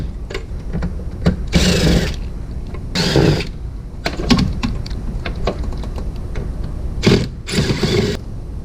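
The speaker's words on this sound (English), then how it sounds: "Just some screws down here we have to get out." Screws being removed from a Coleman Mach basement air conditioner on a Winnebago RV, heard as close, irregular metallic clicks and rattles with several louder bursts of scraping or driver whine.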